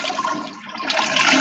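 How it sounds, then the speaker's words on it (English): A toilet flushing indoors, a steady rushing gush of water that swells louder toward the end, heard alone without talk. "I'm hearing a toilet flush."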